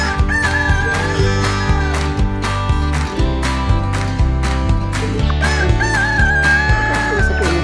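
Chickens cluck and crow repeatedly over a steady rhythmic background, several birds calling close by in a continuous stream.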